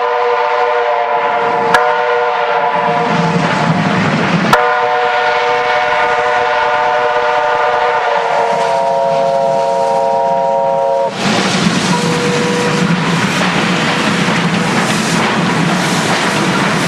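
Steam trains departing from Sanjiazi station in China in the very early morning, with loud sustained steam whistles sounding several times over a steady rumble of moving locomotives and rolling rail cars.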